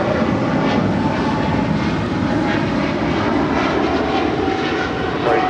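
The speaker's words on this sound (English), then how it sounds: "the Korean Air A380 about to touch down on 24 right" A steady, loud roar of jet aircraft engines at LAX airport as a Korean Air A380 comes in to land on runway 24 right, a continuous broadband rumble with no breaks.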